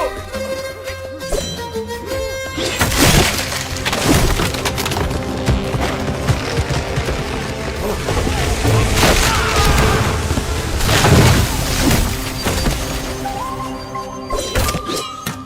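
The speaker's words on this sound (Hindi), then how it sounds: "तुमने उस पेड़ को काट डाला।" Tree being chopped down and crashing amid a dense action-movie soundtrack: loud booms, splintering wood and heavy crashes layered over music, with several sharp impacts and a big crash near the end.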